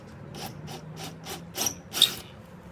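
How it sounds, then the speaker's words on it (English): A drill bit cleaning out a hole in a wooden gate post rasps in a series of short, rhythmic scraping strokes, the last few louder and harsher. "take my drill bit and just clean up that hole from the outside"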